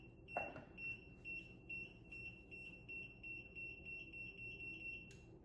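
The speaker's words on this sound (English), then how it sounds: "you'll see it blink and beep a few times. It'll start rapidly beeping" A sanitizer device gives a rapid, steady series of short, shrill electronic beeps that repeat in quick rhythm over a low background hum, sounding faint and somewhat distant.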